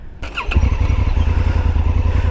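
A Honda Africa Twin DCT motorcycle engine starts up close by at a dealership, a brief cranking whir catching into a loud, steady, rumbling idle.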